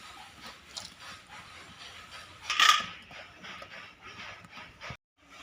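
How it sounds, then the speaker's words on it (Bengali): A metal lid clinks onto a cooking pot of Sindhi kadhi holding tomato, drumstick and potato, one short clatter amid low kitchen background noise. "ঢাকনাটা লাগিয়ে দিলাম।"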